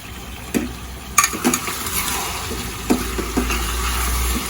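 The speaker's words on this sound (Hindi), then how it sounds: "थोड़ा सा रोस्ट करेंगे, इसको लाल कर देंगे थोड़ा अच्छी तरह।" Chicken with ginger and garlic fries in a pan, a low steady sizzle broken by several sharp clinks and scrapes of stirring utensil against metal, close and clear.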